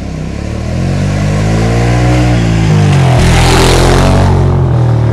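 A two-wheel-drive vehicle powers through a mud hole on Etna, its engine loud and close with a sustained revving drone that climbs in pitch and surges midway before holding steady.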